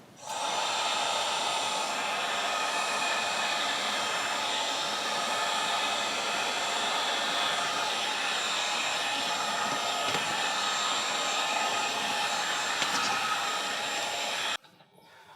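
Heat gun blowing steadily as shrink wrap tightens over a handmade product package, a continuous loud hot-air roar with no talk that cuts off abruptly near the end.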